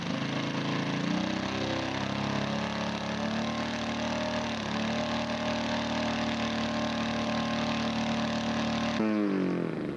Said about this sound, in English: Greg is showing off his Fuji 4-cycle wet sump engine.